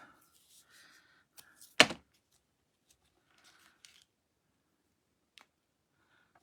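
Tape torn by hand while making an ocean-themed gel shaker card, heard as one sharp, close rip in a quiet room, with a few faint clicks and taps before and after and no talking.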